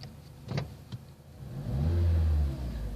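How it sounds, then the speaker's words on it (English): A Mazda 3 2.0 Astina automatic fires up by push-button start, a short whirr giving way to a loud, sustained low exhaust rumble that swells and holds close by. "You press this button and listen to this sporty exhaust note."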